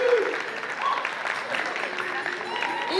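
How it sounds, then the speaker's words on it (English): Debate audience applauding the proposition side, a moderate steady patter of clapping from a crowd lasting about three seconds, with a few faint voices mixed in. "so you can give them a round of applause or any noise you deem suitable"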